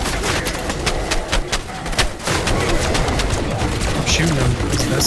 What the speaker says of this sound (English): I'm shooting him as best I can